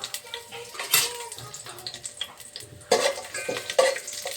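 Curry leaves dropped into a hot frying pan, crackling and sizzling with sharp spattering pops, plus clinks of a utensil stirring against the pan, close and fairly loud.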